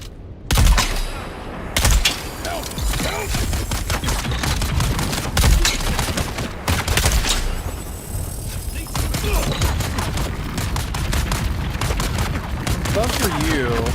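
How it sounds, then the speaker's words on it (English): Sustained gunfire in Dune Awakening pours in from ambushers aimed at the player, a dense stream of rapid, loud shots and bursts lasting the whole stretch with barely a pause. "Stop shooting me for a hot second."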